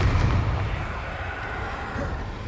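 A Bombarda spell goes off in a Harry Potter video game, a heavy booming blast at the start that rumbles on as a dense, steady roar.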